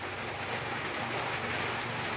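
Heavy rain pours steadily, a dense continuous hiss of drops drumming on a surface with no pauses, close and even throughout.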